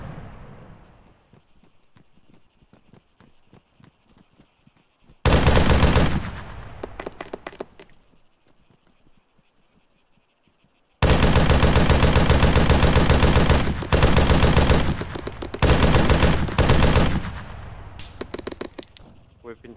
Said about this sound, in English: We've been taken. Under fire! Under fire! We're under fire, right? We're firing.